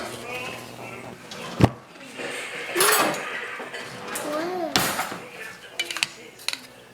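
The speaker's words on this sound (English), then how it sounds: "We're gonna mix this all up." Egg yolks and room-temperature, slightly softened cream cheese being mixed in a bowl for keto bread, with close clinks and scrapes of utensil against the bowl in uneven bursts, with occasional talk.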